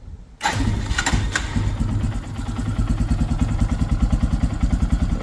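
A Lifan KPX 250 motorcycle engine, freshly refilled with oil, cranks and fires up after a brief silence, then settles into a steady, close, loud putter at idle with a couple of small clicks early on.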